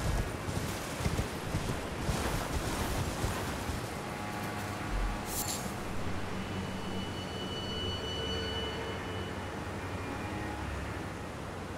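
Water and waves in Elden Ring: Shadow of the Erdtree make a continuous rushing, wind-like wash with a brief sharper splash partway through, fairly loud and steady.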